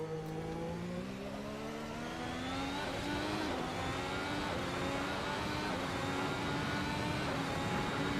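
In the Assetto Corsa racing game, a Ferrari race car's engine climbs steadily in pitch as it accelerates hard on a top-speed run, a continuous whining roar at moderate level with no talking.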